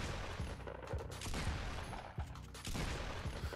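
Rapid Fortnite shotgun blasts, each followed at once by the clatter of a floor being built, in dense, loud, overlapping bursts with no voices.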